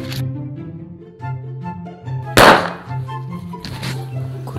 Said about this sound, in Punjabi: ਸਾਰੇ ਪਟਾਕੇ ਚਲਾਈਏ